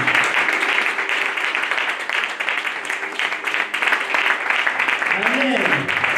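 Church congregation applauding during a French-language sermon, a dense, loud wash of clapping throughout, mixed with cheering voices and talk.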